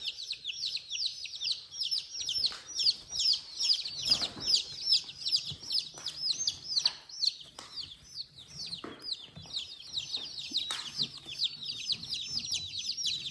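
Baby chicks raised in a city brooder peep constantly in rapid, high, overlapping calls, joined by soft taps and rustles as they peck at feed nearby.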